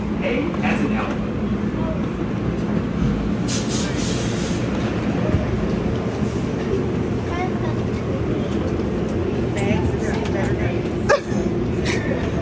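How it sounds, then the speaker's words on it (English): An airport plane train departing, with a steady rumbling ride and rail noise throughout, while an automated announcement and people's voices carry over it. "Welcome aboard the plane train. Yeah, seniors? Hold on. This train is departing."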